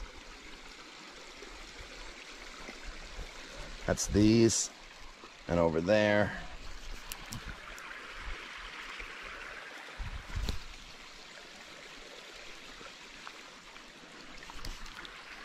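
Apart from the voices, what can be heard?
creek water flowing over rocks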